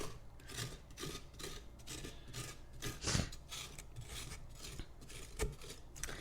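A plastic scooper scrapes the inside of a carved Halloween pumpkin in repeated rasping strokes, close and fairly quiet, with one louder scrape midway and no talking.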